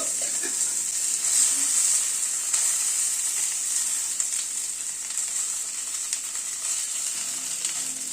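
Vegetables sizzle steadily in hot tempering oil while being tossed in the pan, a loud, bright, continuous frying hiss with faint scraping and stirring knocks underneath.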